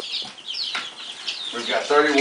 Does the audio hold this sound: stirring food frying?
no